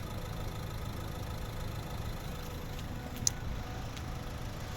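A 2010 Nissan Qashqai's 1.5 dCi diesel engine idles steadily with a low, even clatter, close by, with a faint tick partway through and no talking.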